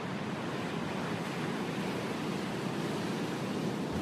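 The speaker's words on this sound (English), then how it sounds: "The two sides of the surf here are going to start to come together right ahead of us" Ocean surf rushes continuously along a rocky Canadian coast where two sides of the surf meet, a steady broadband roar with light wind noise and no voices.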